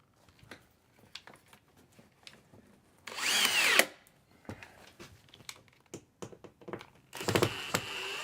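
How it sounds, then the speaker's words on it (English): A power drill drives screws into a cedar ceiling inside a camper van, two short loud whirring bursts separated by quieter handling knocks and taps. "I'm actually going to have to drill this back in."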